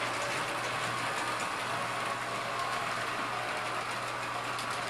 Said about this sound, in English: the train waits at the block until the second train gets over to the read switch, then it triggers a block and that train at the block takes off